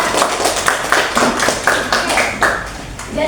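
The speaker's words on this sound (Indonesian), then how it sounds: "tepuk tangan untuk kelompok Debian" A class claps for a student group after its presentation, steady repeated hand claps in a roughly even rhythm over a few seconds, close and fairly loud, with some voices faintly underneath.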